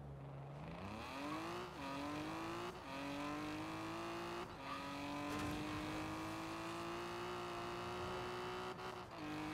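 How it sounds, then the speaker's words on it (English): A fully upgraded car in Forza Horizon 4 accelerates hard, its engine note climbing steadily through several gear changes with brief dips between shifts, loud and close throughout. "have a look at how fast this car accelerates when fully upgraded"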